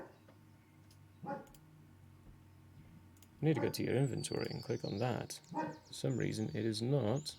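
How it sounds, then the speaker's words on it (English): Dogs barking indoors in short yapping bursts, fairly close and loud, mixed with talk about a tabletop game. "Excuse the dogs, they like to talk."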